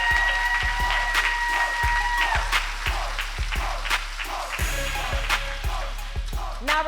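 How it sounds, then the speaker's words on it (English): Applause breaks out from the audience at a corporate awards ceremony honoring women deal-closers, a dense, loud clapping crowd throughout with rhythmic booming beats of music underneath. "let's give one more round of applause for all the 5-figure honorees"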